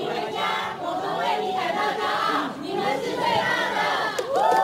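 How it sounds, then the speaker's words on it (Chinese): Crowd cheering and shouting to welcome home Olympic athletes arriving at Taoyuan Airport, a dense continuous roar of many voices at steady loudness with excited yells throughout. "民众热情欢呼"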